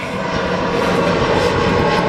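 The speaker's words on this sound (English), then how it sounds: "Airplane flying above our head, sorry." An airplane drones steadily overhead, a loud continuous engine roar filling the whole stretch with no talk over it.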